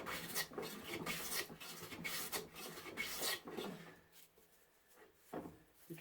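A Faithfull No. 5 hand plane is pushed along southern yellow pine in repeated rasping strokes. The passes come close and fairly loud, with a few pauses between them and a quieter gap near the end.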